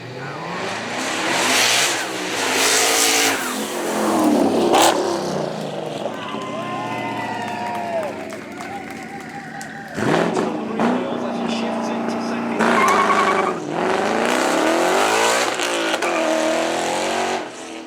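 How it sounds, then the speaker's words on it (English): Loud, revving supercar burnout at the Beaulieu Supercar Weekend event, the twin-turbo V8 engine roaring and wailing in surges while people talk and commentate over it. "So loud that he's changed the weather forecast. That's how big a burnout he's done."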